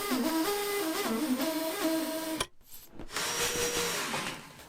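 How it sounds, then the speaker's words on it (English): An SDS rotary hammer drill bores into brick at a raised speed, a steady buzzing hammer tone with shifting pitch, pausing briefly in the middle before resuming at an even level. "now we've chucked up the SDS bit, you can step up the speed a little, and it looks a bit more like this."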